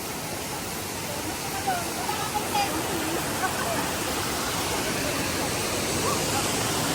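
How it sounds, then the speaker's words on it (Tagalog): A waterfall and strong stream current at Thousand Layers Waterfalls roar in a dense, steady rush of water, loud and constant, with faint voices barely audible beneath it. "Lakas talaga ng agos, no?"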